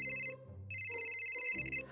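A telephone ringtone from an American Girl stop-motion scene, with bright electronic tone bursts repeating over a short phrase, loud and close with no talking.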